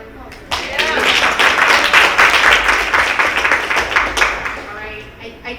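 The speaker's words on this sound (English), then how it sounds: "we'll give her a round of applause" Audience applause rings out at a home-defence talk, dense clapping swelling quickly and holding steady for several seconds before thinning out, fairly close and loud.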